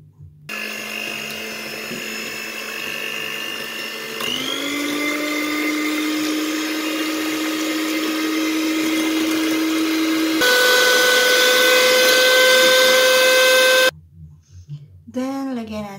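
An electric mixer whips meringue with cream of tartar, giving a steady, close motor whine that steps up in pitch and then grows louder before cutting off, followed by a brief voice.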